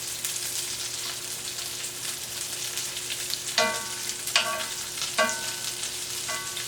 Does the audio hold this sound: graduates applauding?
no